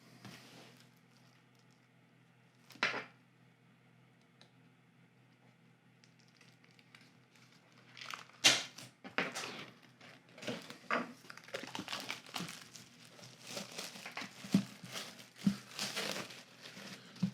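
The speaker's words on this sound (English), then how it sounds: "Let's get rid of the foil and see what is in there." Plastic foil wrapping being torn and peeled off an artbook, a 2022 sketch collection: a single crinkle early on, then a long run of close, irregular crackling and rustling bursts that grows denser toward the end, with no talking.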